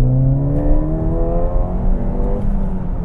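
A Ford Fiesta ST with a turbocharged 1.6 engine revs up, its rising engine tones holding briefly at RPM before easing, loud and close from inside the car.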